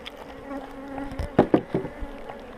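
Honey bees buzz in close, wavering drones around a beehive on a spring hive check, with several louder passes as individual bees fly near.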